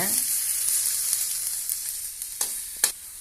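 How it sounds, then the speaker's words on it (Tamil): Tomatoes sautéing in a pan, a bright steady sizzle with a couple of short sharp scrapes or taps near the end, close and moderately quiet, with no one speaking. "தக்காளி ரெடிங்க நல்லா வதக்கியாச்சு இந்த மாதிரி நல்லா வதக்கிடுங்க"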